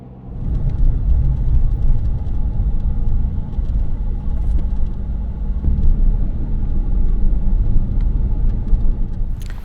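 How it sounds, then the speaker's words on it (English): Small overland vehicle convoy driving fast on a road, a loud, continuous low rumble of engine and tyre noise heard from inside a vehicle, steady throughout with no talking. "we pointed our small convoy east and put the hammer down"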